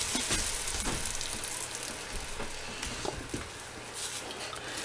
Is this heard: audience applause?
no